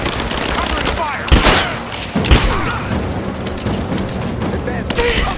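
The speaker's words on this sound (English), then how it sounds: "Covering fire!" Covering gunfire rattles in Rise of the Tomb Raider, a steady crackle of automatic shots with a couple of heavier thumping bursts, set against loud combat ambience and shouted voices.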